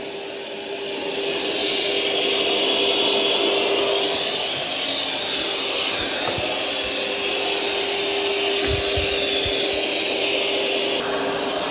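A Eufy robot vacuum and mop cleans carpet with a steady, close whooshing suction drone and a constant motor hum, rising at the start and holding level throughout with faint bumps underneath.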